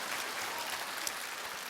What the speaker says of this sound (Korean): 뭐 박수를 치실 거면 좀 화끈하게